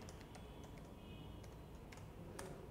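Quiet, steady typing on a computer keyboard while entering an Excel formula, soft close key clicks running continuously with no speech.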